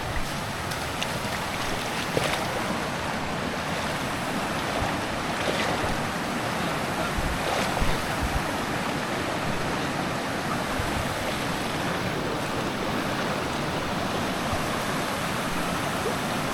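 A river rushing past a campsite crossing at Lata Jebus, a constant loud roar of flowing water with no breaks, close by and filling the whole scene.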